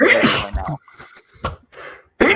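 A person sneezes sharply at close range during a tabletop role-playing game session, followed by brief quiet speech and another burst of sound.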